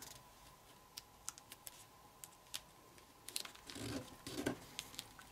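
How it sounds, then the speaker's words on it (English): Paper flap being creased and folded down for a collapsible hexahedron fidget spinner: faint, sparse crisp clicks, then a brief rustling crinkle near the end, with no talking. "So fold this flap up. And fold it down."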